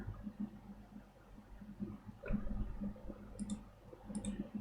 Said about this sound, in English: I was scooching my mouse up, it hit where the keyboard is, and I couldn't press the button down.